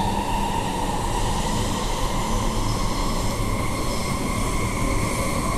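Airport line train running through a deep tunnel at night, a loud continuous roar and rumble with a steady tonal whine, heard from inside the carriage without letup.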